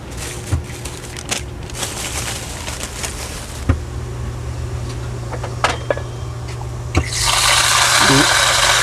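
Water pours into a cooking pot for shrimp sinigang in an outdoor Filipino kitchen, a steady filling stream under background noise and scattered clinks, rising to a loud rushing gush near the end.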